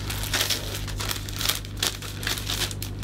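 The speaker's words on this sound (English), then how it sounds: "So this holds the cellophane in place." Cellophane wrapped around a vase crinkles close up with continuous crackling rustles and several sharper crisp peaks, over a steady low hum.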